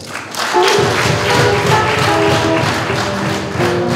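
Wedding guests applaud during the ceremony with loud, dense clapping that starts quickly and holds steady as a continuous crowd patter.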